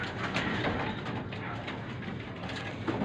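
Breeder racing pigeons coo softly in a loft, low murmuring calls over a constant rustling background, fairly close, with no talking.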